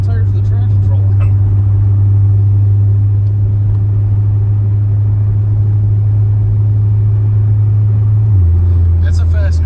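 A 750 rwhp Chevrolet C7 Z06 with an LT4 and BTR camshaft spins its rear tires, producing a loud, steady low drone that holds for several seconds before the pitch drops near the end.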